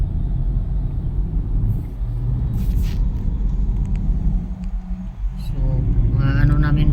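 Traffic on a busy highway heard from inside a moving vehicle: a constant road rumble and engine drone, with brief hissing passes and people talking intermittently over it.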